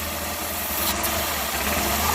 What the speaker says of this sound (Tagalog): Tumaas yung tunog ng ating makina.